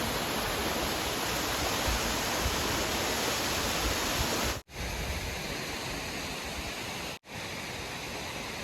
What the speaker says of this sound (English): There's the first waterfall.